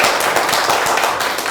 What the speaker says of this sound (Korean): 예, 박수 한번 쳐주시죠, 여러분.